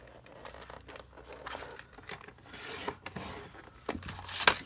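Card paper being scored with a hand scoring tool, heard as quiet, close scraping and rubbing strokes with small clicks, with no voices.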